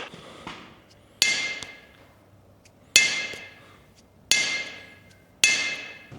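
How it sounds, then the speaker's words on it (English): A steel bearing drops onto a blacksmith's anvil, and each rebound rings out as a sharp, bright metallic ping. Four separate strikes arrive at roughly even intervals, each one decaying over about a second. "you're going to want to drop that bearing and see how far it travels back to your hand"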